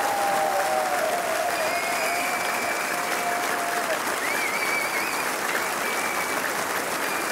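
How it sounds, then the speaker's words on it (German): Concert audience applauding at a concert, a dense, steady wash of clapping at constant level throughout, with faint sustained tones from the stage lingering above it and no talk. "Geben Sie sich noch einen riesen Applaus,"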